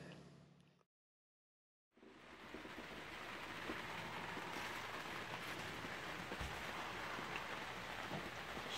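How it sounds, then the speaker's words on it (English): Steady rain falls at a marina on a wet day, a continuous hiss that starts after a brief moment of silence and holds evenly to the end, with no voices. "it's raining out"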